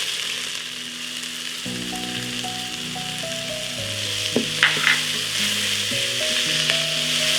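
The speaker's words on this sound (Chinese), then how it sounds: "除了印度综合香料，其他香料呢都一起加入，大概炒个1分钟左右。" Garlic, ginger and spices stir-fry with caramelized onions in a pan for a beef curry, a close, steady sizzle with occasional stirring clatter beneath gentle melodic background music.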